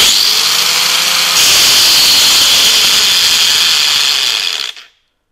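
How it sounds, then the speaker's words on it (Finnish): A worn-out angle grinder in a workshop whirs loudly and harshly for several seconds with a rough, rattling mechanical noise, then cuts off abruptly into silence, close up and without talk. "Mä en uskalla tällä rälläköjä, kun tämä pitää tämmöstä ääntä."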